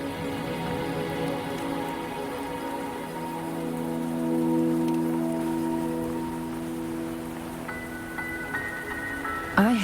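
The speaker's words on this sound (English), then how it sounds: "Are you trapped here by the rain?" Steady rain patters continuously over a soft tonal background in the video game Wuthering Waves, with a brief brighter chime near the end.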